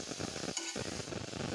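Butter sizzles steadily in a hot non-stick pan for a bread sandwich, a close, continuous crackling hiss with a brief clatter partway through.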